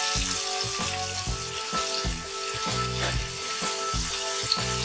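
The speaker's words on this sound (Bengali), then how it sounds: "এবার হলুদ আর লঙ্কা গুঁড়ো দিয়ে দিচ্ছি।" Turmeric and chili powder sizzling in oil in a frying pan for a fish curry, close crackling hiss broken by repeated rhythmic stirring scrapes, no speech.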